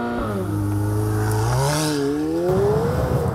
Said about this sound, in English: thanks to the embellishment here of the pricey optional sports exhaust system that most owners tend to specify, there's quite enough aural drama